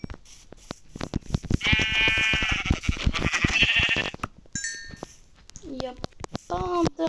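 Minecraft sheep bleat several times in a video game, loud and close, mixed with other game effects and a player speaking French over them.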